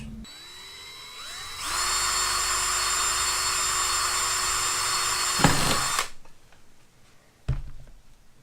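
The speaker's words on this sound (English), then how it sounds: "now I've identified a need to go ahead and drill the hole" A power drill spins up, whines steadily at high speed for several seconds while drilling a hole in a blank on an RV control panel for an LED post light, then stops, followed by a couple of sharp knocks.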